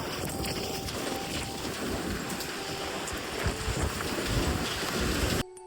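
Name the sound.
light rain falling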